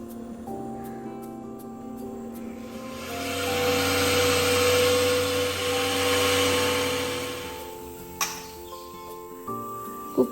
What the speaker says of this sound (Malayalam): കുക്കർ 1 വിസിൽ വന്നിട്ടുണ്ട്